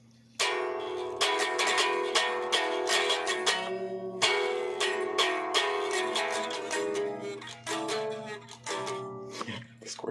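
Piano instrumental playing an edited section from a piece, a dense run of struck chords and melody notes that begins abruptly and continues steadily and clearly with no talking.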